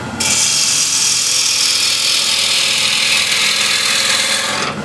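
A bowl gouge makes a peeling cut as it hollows the side grain of a cross-grain wooden bowl on a lathe, throwing white shavings. It produces one continuous, close, steady rasping hiss that starts and stops abruptly, with no voices.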